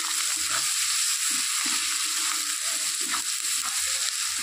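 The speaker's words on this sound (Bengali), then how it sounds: "একটু নুন দিয়ে দিচ্ছি, পেঁয়াজটা যেন তাড়াতাড়ি ভাজা হয়ে যায়" Onions fry with salt in a pan, a steady close sizzle with intermittent scraping and stirring clinks throughout, with no talking.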